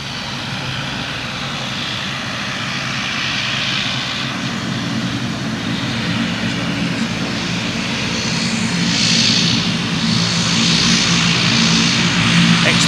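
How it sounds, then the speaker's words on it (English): Propeller feeder aircraft at East Midlands Airport cargo apron, a loud continuous engine drone with a rising whine that swells toward the end, heard close by. "No, this is possibly one of the feeder aircraft."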